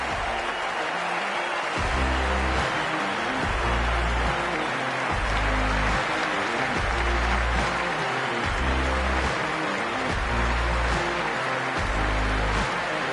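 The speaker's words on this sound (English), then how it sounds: "And the crowd's bubbling away around the SCG." Video game crowd at the SCG cricket ground, a steady wash of stadium murmur with a rhythmic, looping chant-like swell throughout, distant and constant.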